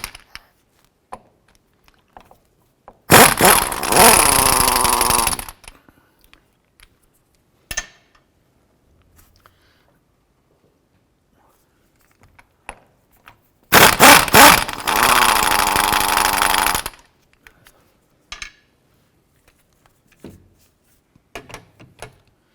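A power tool loosens the rear drive shaft bolts on a 2005-10 Jeep Grand Cherokee in two loud, sustained whirring bursts of a few seconds each, separated by quiet with faint clicks and clanks of handling.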